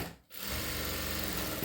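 A sewing machine running a straight stitch whirs steadily and loudly after a brief pause at the start.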